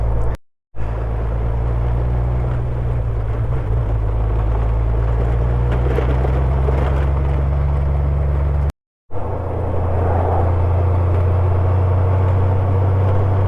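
A car driving on a gravel road toward Murupara, with a steady low engine and tyre rumble under a broad crunchy roadway hiss, interrupted by two brief dropouts.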